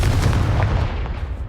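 A Confringo fire blast spell cast in Hogwarts Legacy, a loud booming burst with heavy low rumble that fades over about a second and a half.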